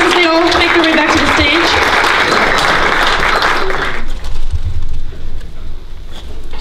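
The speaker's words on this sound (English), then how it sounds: "Yes, round of applause as they all make their way back to the" A round of applause at a movie premiere, loud clapping and whistles with a voice over it, then dying down to scattered claps and room noise.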